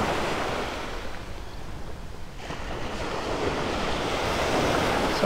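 Ocean waves at Vanderbilt Beach in North Naples, Florida on a partly cloudy morning: a steady broadband wash of surf that swells and recedes, with wind buffeting the microphone and no one speaking.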